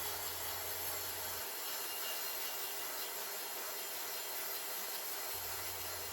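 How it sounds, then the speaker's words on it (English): A power file grinding the hand-grip section of a wooden joiner's mallet handle made from firewood, giving a constant close, loud abrasive whir that carries through the whole stretch. "I use a power file to grind the part that I will hold to make it more comfortable"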